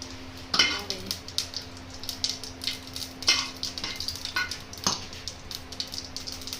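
Close-up frying of cumin in hot ghee with a soft sizzle, punctuated by a few sharp spoon scrapes and clinks against the pan at irregular intervals.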